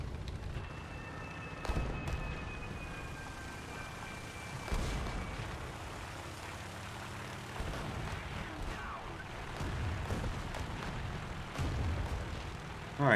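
Bombs from a Saab B-18A medium bomber bursting on the ground in War Thunder, several distant booming explosions spaced across the stretch over a steady engine drone, with a whistling tone early on.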